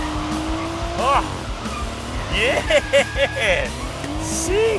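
A rear-wheel-drive car skids hard, its tires squealing in several loud, wavering bursts over a revving engine while people talk and react nearby.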